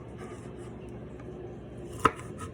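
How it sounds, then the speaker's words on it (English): A knife trims the ends off fruit for cranberry relish, one sharp chop landing on a cutting board amid quiet kitchen background. "I'm going to cut the ends off because you don't want the ends in there"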